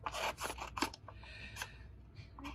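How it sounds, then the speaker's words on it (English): Scissors snip around a stamped paper image in a series of crisp, close cuts, quick irregular clips with small paper rustles between them and a short pause partway through. "we're going to grab our scissors and we're just going to fussy cut out this"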